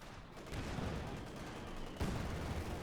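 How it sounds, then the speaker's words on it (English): Machine gun fire rattles across a Company of Heroes 2 battle between Wehrmacht and Soviet forces, a continuous, fairly distant din of bursts with a sharper surge near the end and no voices. "Panther 4 engaging troops, machine gun backing up there"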